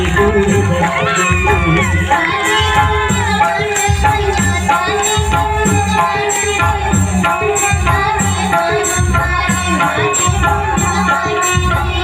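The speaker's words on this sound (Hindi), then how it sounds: "ताली जयकारा लगाओ ताली जयकारा" A village crowd cheers and claps steadily along with loud devotional singing and drumming during a Navdurga tableau performance, the noise sustained and dense throughout.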